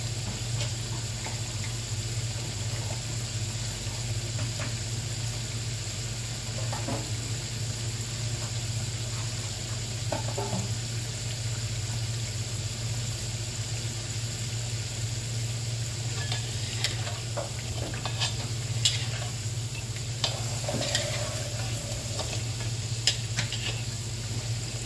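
Potatoes sizzle in hot oil in a pan for perkedel kentang, a steady frying crackle with scattered stirring scrapes and light utensil taps.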